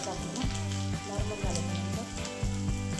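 Mustard seeds crackle and sizzle in hot oil while tempering for suralichi vadi (khandvi), a steady close frying hiss with dense popping bursts and a low background hum throughout.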